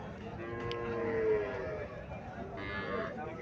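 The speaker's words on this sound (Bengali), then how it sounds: "এখানে আর একটা ফিজিয়াম জাতের গাভী দেখা যাচ্ছে" A Friesian cow on a farm gives a drawn-out moo near the middle, fairly close, against steady background noise with livestock around.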